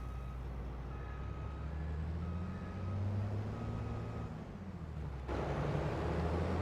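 A combine harvester works a field in a PC farming game, its engine a steady low drone with intermittent beeping tones. A brief change in the machine noise comes near the end. No one talks.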